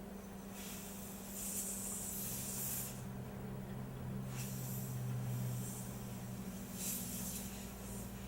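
Compressed air hisses in several short, faint bursts while blowing dust off computer parts, each spray lasting about a second or two over a low background hum.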